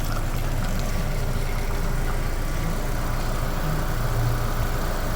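A Mitsubishi Lancer VI engine runs steadily at idle during a cooling system flush, a constant close hum with a faint rush of flowing liquid mixed in, no one speaking.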